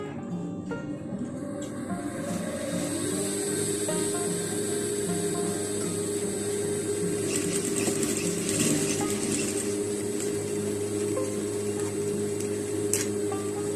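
A sewing machine runs steadily for the whole stretch while stitching a ruffle balloon sleeve, a continuous mechanical whirr with a faint rhythmic clatter and no talk.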